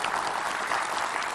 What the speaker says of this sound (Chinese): 让我们掌声请上今天的几位对话嘉宾。